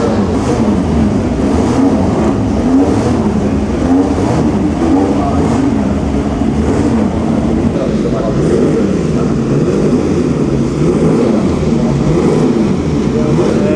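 Historic race cars form up before a race at the Monaco Grand Prix Historique, with a dense, continuous low engine rumble and idling close by. Voices mingle faintly in the background throughout.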